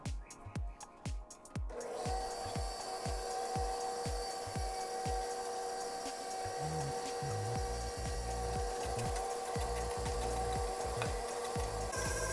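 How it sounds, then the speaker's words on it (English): An electric meat grinder grinds pork with a steady, close motor whir, preceded by a few rhythmic mechanical knocks, with no speech. "Now we're going to grind the pork meat."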